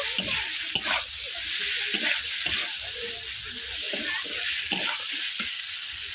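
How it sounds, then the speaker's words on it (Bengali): Peas, potatoes and carrots that were fried earlier sizzle steadily in a pan for matar paneer, with repeated scraping stirs through a continuous close frying hiss and no talking. "প্রথমে দিয়ে দিচ্ছি মটর আলু, আর দিয়ে দিচ্ছি গাজর একসঙ্গে ভেজে রাখা। ওগুলোকে আমি কষিয়ে নিচ্ছি।"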